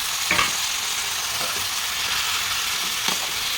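Onions and tomatoes fry in hot oil in a pan for a paneer butter masala curry, a steady close sizzle with a few soft stirring scrapes and no speech.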